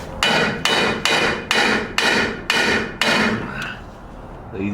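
Seven sharp hammer blows in a steady rhythm while fitting a transmission on a turbo LS Nova, close and loud, each ringing briefly before the next, ending with a lighter tap.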